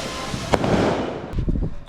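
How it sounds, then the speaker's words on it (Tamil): Firecrackers crackle and pop during Diwali celebrations, a dense burst of sharp cracks with a couple of louder bangs, close by and fairly loud, with faint voices in the background. "எல்லாரும் பட்டாசு ஒடிச்சிட்டு இன்னும் பட்டாசு ஒடிச்சிட்டே இருக்காங்க"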